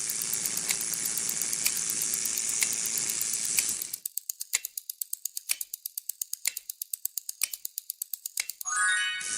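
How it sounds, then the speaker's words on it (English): An electric shock zap sound effect begins as a loud, sustained sizzling buzz lasting about four seconds. It then breaks into a rapid train of sharp crackling snaps and ends in a brief burst of fizz. "It was an electric shock sound."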